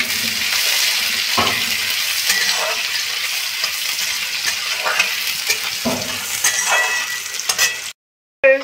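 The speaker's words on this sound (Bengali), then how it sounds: "এবারে পেঁয়াজ কুচিটা দিয়ে দিচ্ছি।" Chopped onion sizzles loudly in hot ghee and oil, with continuous frying hiss and scattered spatula scrapes and taps, then an abrupt cut near the end.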